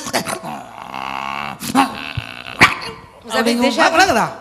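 A preacher at a Tamil sermon imitates angry dogs quarrelling with his voice, producing close, loud growls and sharp barking bursts with pauses between them.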